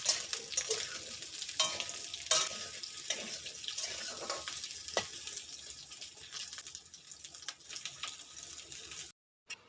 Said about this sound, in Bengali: এখন এই আলুগুলোকে ঘিয়ের মধ্যে সামান্য একটু নাড়াচাড়া করে নেব।